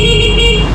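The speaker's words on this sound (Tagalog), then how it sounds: "Busina muna tayo." A Honda Click 125 motorcycle's steady electric horn sounds continuously through the whole short moment, with a low engine-like rumble underneath.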